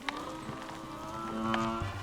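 A Pokémon cry in Pokémon Scarlet that sounds like a cow's moo, a low droning call with tonal layers running about two seconds, loud and close against game sounds.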